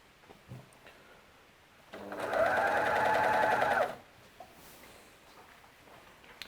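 A household sewing machine stitching hemp fabric inside out runs in one steady, close whirring burst of about two seconds, with quiet room sound before and after.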